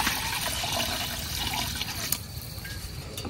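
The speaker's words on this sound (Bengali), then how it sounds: "কড়াই পানি দিয়ে দিতেছি" Water pours into a wok in a continuous rushing, splashing stream, fairly close and steady, with no speech over it.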